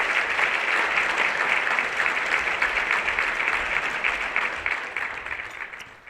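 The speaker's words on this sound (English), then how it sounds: "Please give a round of applause for today's speaker," A conference audience breaks into dense, sustained applause for an invited author speaker, a full wash of many hands clapping that holds steady and then gradually fades toward the end, with no talking over it.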